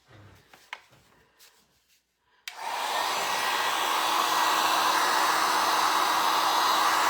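A hair dryer starts up and runs steadily, drying a freshly painted craft pull-toy duck, loud and close after a few seconds of faint handling sounds.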